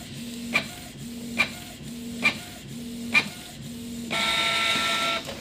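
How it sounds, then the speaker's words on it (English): A Canon G3010 inkjet printer runs a test page, its print head carriage sweeping back and forth with four regular clicks and whirs before a steady higher-pitched motor drone takes over near the end. "press the start, and it's printing the test page"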